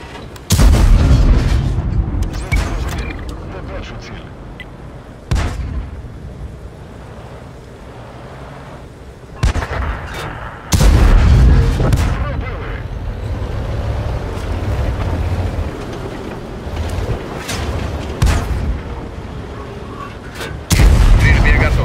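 Artillery guns firing in a battle game, with several heavy booms recurring at intervals over a steady rumbling background, while voices speak between the shots.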